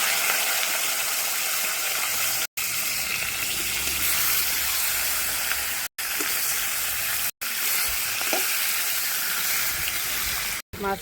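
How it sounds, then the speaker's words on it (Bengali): Fish frying in a pan gives a continuous loud sizzle and crackle, broken by a few abrupt silent gaps, with faint clicks of handling and no speech. "মাছটা ভাজা বসিয়ে দিলাম।"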